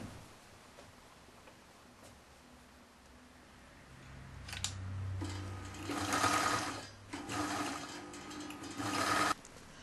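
After a quiet stretch of low room hiss, a sewing machine starts up close by, running a short backstitch on fabric in two loud, whirring bursts with a brief pause between them.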